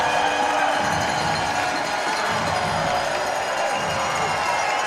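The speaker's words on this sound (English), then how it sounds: "And the crowd comes to life." A stadium crowd at an arena football game roars and cheers steadily, a dense wash of voices that stays loud throughout.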